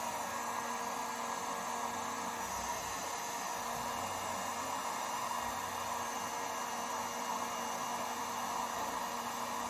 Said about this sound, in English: So just going to use the heat gun here.